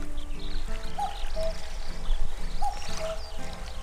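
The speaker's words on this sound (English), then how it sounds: "Before you even cast your line, you can hear the sound of the water flowing and animals making noises." Water flows steadily in the Reel Fishing: Angler's Dream video game, a continuous close trickle with short chirping animal calls repeating over it.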